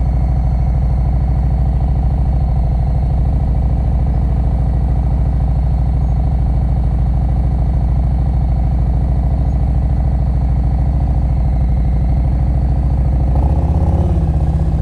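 A motorcycle creeps along at slow speed during an advanced riding practice session in North Carolina, its engine a loud, steady, close-up rumble with the clutch slipping and throttle held. Near the end it briefly clatters louder.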